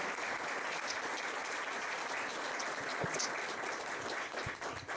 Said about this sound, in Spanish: También les pido un fuerte aplauso al profesor Milton Usamed